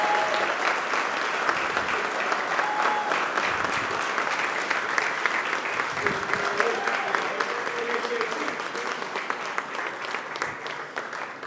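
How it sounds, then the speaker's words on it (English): Sustained crowd applause fills a room at the Town of Babylon 2023 spring fundraiser, steady and fairly loud throughout, with scattered voices mixed in beneath the clapping. "I want you to give a big round of applause to our good friend, Assemblywoman Kimberly Jean-Pierre"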